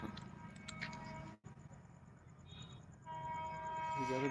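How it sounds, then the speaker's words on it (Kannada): A train rumbles past nearby with a steady, rising roar and a brief dip midway, ending in a louder, fuller rush with high squealing tones. "ಹಾ ಬಂತು ಟ್ರೈನ್ ಬಂತು ತಡೀರಿ"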